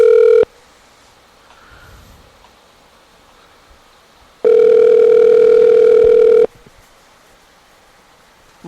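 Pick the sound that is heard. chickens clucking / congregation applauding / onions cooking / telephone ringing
telephone ringing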